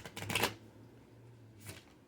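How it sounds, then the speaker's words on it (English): A deck of cards being shuffled, kept in an inner liner and Ziploc bag: one quick riffling burst up close, then a short pause and a second brief riffle, with no talking. "I want you guys to see that I'm shuffling it, not just hear me shuffle."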